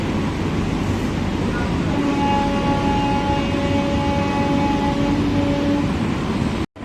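A Chennai AC local electric train runs with a steady low rumble and rolling rail noise, with faint tonal whines from the motors held through the middle, close and continuous until an abrupt cut at the end.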